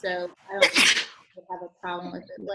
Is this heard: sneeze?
yes